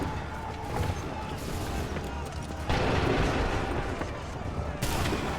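Musket volleys crack out in Assassin's Creed III, a dense battlefield din of gunfire with a sharp surge near the three-second mark and another just before the end, steady and loud throughout.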